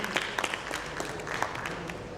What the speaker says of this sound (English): A big round of applause to Dr. Sandeep.